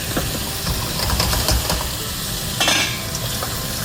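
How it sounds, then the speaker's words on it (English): Crayfish stir-fried in a hot pan, a dense continuous sizzle with scraping stirs and brief louder flares, close and steady with no talk. "And then once that's cooked out, add the crawfish."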